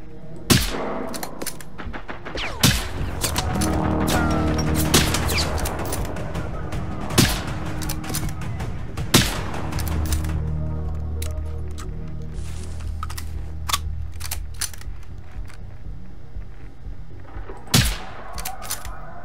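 Single rifle shots from Generation Zero, sharp cracks spaced every few seconds over a steady mechanical hum, fairly close, with a few lighter clicks between.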